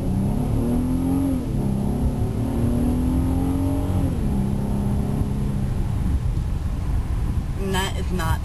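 An Infiniti G35 pulling away from a red light, its engine heard from inside the cabin, rising in pitch through the gears with a shift partway through, loud and steady.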